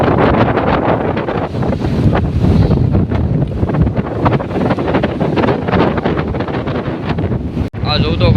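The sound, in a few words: strong sea wind blowing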